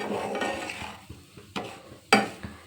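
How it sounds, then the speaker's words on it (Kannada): A spoon stirs food in a thick-bottomed pot over a low flame: soft scraping strokes with a few sharp clinks against the metal, close and fairly quiet. "ಈ ಥರ ಚೆನ್ನಾಗಿ ತಿರುವು ಕೊಡ್ತಾ ಇರಬೇಕು"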